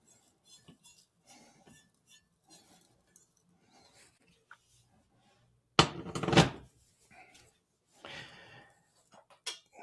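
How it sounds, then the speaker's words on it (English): Whole spices such as cumin, coriander and fennel tipped into a spice grinder, giving a burst of dry rattling clinks and rustles near the six-second mark, with a softer patter after, amid quiet handling noises. "So I'm just going to move my spice into my grinder."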